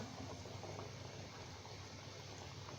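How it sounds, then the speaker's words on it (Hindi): Chicken pieces frying in hot oil, giving a steady, quiet, even sizzle and bubbling that holds without a break. "अब हम इसमें अपने तमाम पीसेस डालते जाएंगे और इनको फ्राई कर लेंगे।"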